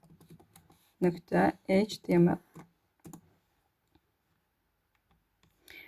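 Light, quick computer mouse clicks while an HTML file is being created, heard faintly at the start and end around a stretch of speech.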